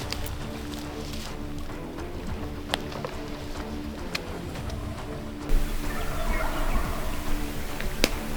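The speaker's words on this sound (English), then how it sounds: "there's a bunch of them gobbling" Wild turkeys gobble in the distance across Nebraska creek country, a few faint bursts scattered over steady outdoor background noise with rustling.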